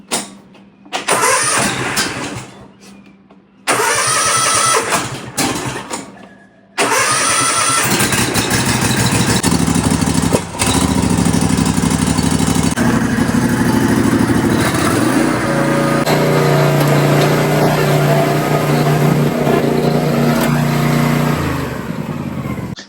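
A Kawasaki FR691V engine on a zero-turn mower cranks through a few short, broken attempts before catching, then settles into a loud, steady idle close to the microphone.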